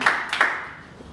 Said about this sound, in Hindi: उसके लिए ऊपर जोरदार तालियां।